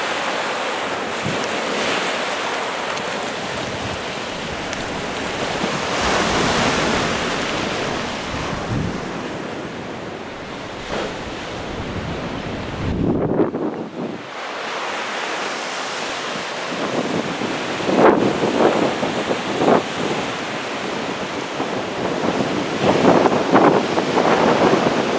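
Wind gusts buffet the microphone on a winter coast beach while surf rolls and crashes nearby, a broad roaring wash that swells and eases over about twenty-five seconds with no voices.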